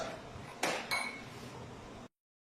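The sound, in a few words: mixing spice blend with oil in a bowl for chicken marinade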